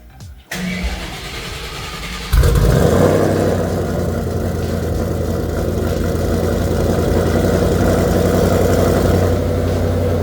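A 1000-horsepower Shelby GT500 cold-starts after a clutch install: a short crank, then the engine catches with a loud bark and settles into a heavy, steady, rumbling idle close by.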